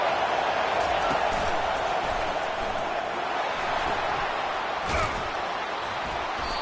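Steady roar of a stadium crowd in an American football video game, building behind the defense on a big third down, with a commentator talking over it and a single thump near the end.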